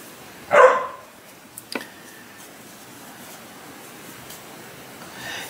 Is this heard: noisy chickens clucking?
no